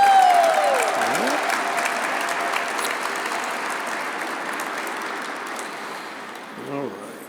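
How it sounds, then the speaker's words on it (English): Gala audience applause for honored performers, a full room clapping steadily and slowly fading, with a brief voice at the start and another near the end. "Another round of applause for our shining stars."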